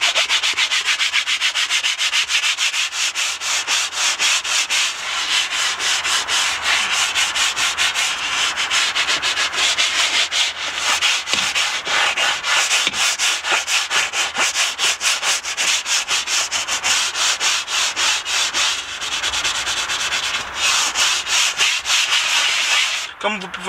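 A leather brush scrubs car leather upholstery coated with cleaner, making steady, close, continuous rasping strokes with a fast rubbing rhythm and no talking.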